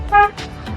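A single short car horn toot on a highway, close and loud, followed by quieter road noise.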